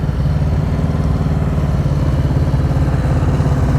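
A motorcycle engine runs steadily at close range with a throaty, even drone, held on the throttle during a slow-speed riding practice session. No voices are heard.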